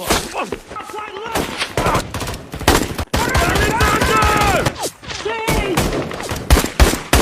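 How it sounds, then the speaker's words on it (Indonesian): Gunfire from Russian soldiers shooting from a distance in a war film: repeated bursts of shots and fusillades crack across the clip, with loud dramatic sound and overlapping voices or a vocal score in the middle section. "kelompok tentara Rusia yang menembaki mereka semua dari kejauhan"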